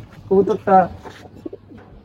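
Two short, loud coos from a pigeon in quick succession, followed by quieter low murmuring sounds.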